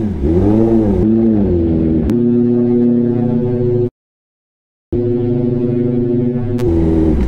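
A Kawasaki ZX10R sport motorcycle with a loud exhaust revs hard, holding a steady roaring drone with sharp pitch shifts, cutting out briefly to silence before roaring back loud and close.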